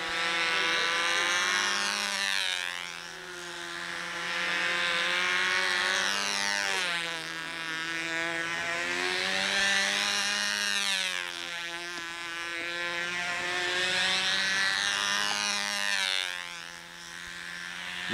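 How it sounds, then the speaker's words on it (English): A small model airplane engine from a Windy U Master 439 B 25 setup runs without a muffler while being heat cycled. It gives a loud, continuous raspy buzz close by, and its pitch rises and falls in waves throughout. "Motor sounds happy without the muffler."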